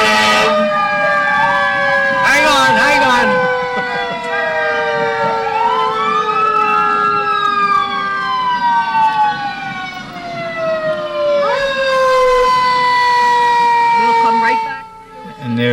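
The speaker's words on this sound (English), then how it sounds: "That's one of our trusty fire companies." Fire engine siren in a holiday parade, wailing loudly with long rising and falling sweeps through the whole stretch, joined by short air-horn blasts near the start and end while a voice talks over it.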